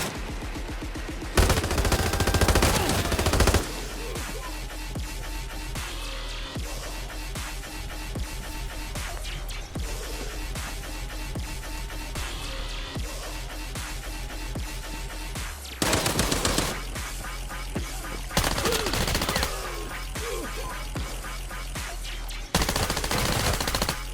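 Suppressed assault rifle fire in the Arena Breakout shooter game, with long rapid automatic bursts that run almost continuously and a few louder, denser stretches of shooting.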